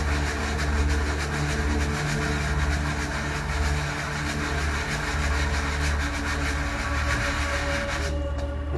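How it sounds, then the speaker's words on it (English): A mold's back is rubbed flat in small circles on 100 grit sandpaper in a workshop, giving a steady, close, continuous scraping rasp that stops abruptly at the end. "And sand the back down nice and flat."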